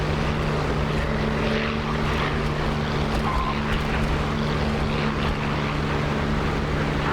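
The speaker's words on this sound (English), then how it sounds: "I'm lining up for takeoff attempt number 3 at this point" A P-51 Mustang's propeller engine in a flight video game roars as the plane lines up and starts its takeoff run: a loud, continuous drone with a steady low hum that holds throughout, with no voice.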